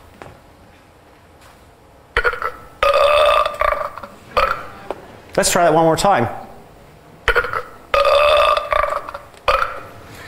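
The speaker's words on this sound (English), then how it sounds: "you think that the skull is burping" Repeated burping sound effects dubbed over a moving skull in a perception demonstration, several loud belches in bursts, alongside someone speaking between them.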